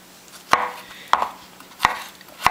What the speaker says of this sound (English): take the knife and, as I said, just smash down, remove your skin from it, and then you can go ahead and cut through that